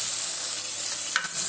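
Oil frying in a pan during home cooking, with tomato in the oil: a steady bright hiss close by, briefly broken by a short stirring scrape near the end.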